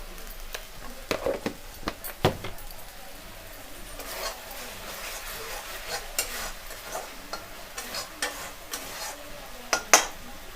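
Spiced masala for Bengali chana dal (cholar dal) frying and being stirred in a pan: steady close sizzle broken by repeated scraping and clattering strokes of a spoon against the metal, with no talk.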